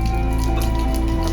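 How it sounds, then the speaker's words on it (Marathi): Heavy monsoon rain in the Lonavala hills, a dense continuous hiss of pouring and dripping water with a steady low rumble, close and loud throughout. "पाऊस पण जोरदार आलेला आहे"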